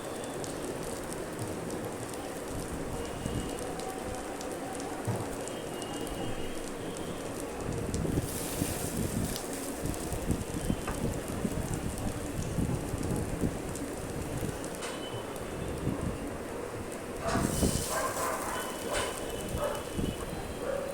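Homemade soybean kababs, about five of them, fry slowly in oil on low heat. A dense, even crackle and spatter carries on close for the whole stretch, swelling a little at moments, with no speech.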